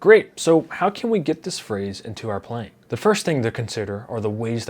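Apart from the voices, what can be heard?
None of the usual background noises is heard.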